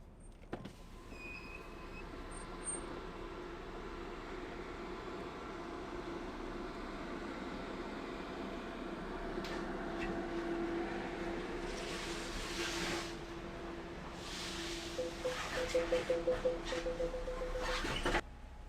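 Steady low rumble fills the cabin of a car shuttle train from the UK to the continent, a continuous drone with faint creaks and a few brief tonal whines and soft clicks toward the end, no talk.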